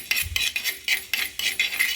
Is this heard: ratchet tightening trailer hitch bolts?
no